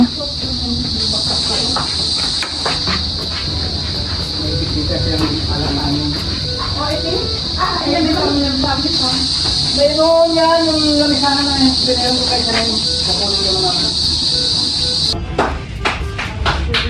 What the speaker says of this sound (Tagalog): nagpiprito na po ng Shanghai